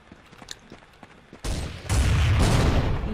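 Gunfire in Counter-Strike 1.6: after a few quiet clicks and light taps, a sudden loud burst of shooting breaks out and swells into sustained, heavy fire to the end.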